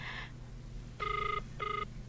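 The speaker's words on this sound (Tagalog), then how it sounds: "agriring ti cellphone na" A cellphone rings in a home, sounding a short burst followed by two longer electronic ring bursts with brief gaps between them, loud and close, with no talking.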